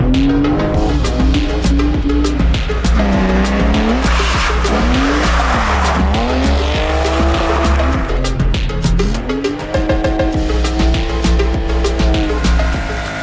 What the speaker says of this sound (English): watching a load of Polish lads drift